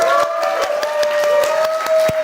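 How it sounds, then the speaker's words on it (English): Audience applause at the Snapdragon Summit 2024, a steady wash of many hands clapping close and loud, with a sustained tone running underneath throughout. "Another round of applause for Samsung."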